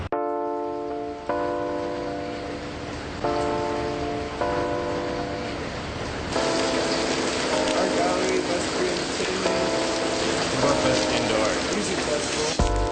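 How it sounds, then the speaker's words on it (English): Rain in Singapore begins to fall, a steady hiss of drops on surfaces growing denser and louder over time, mixed with intermittent tonal background sounds. "Plus it's also starting to rain"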